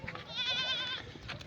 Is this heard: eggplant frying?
no